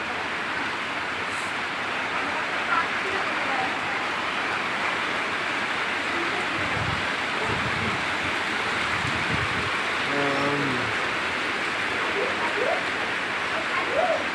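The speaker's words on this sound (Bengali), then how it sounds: "এখন বৃষ্টি হচ্ছে প্রচুর" Heavy rain pours down in a steady, dense roar that fills the whole stretch, with a brief muffled voice briefly rising above it.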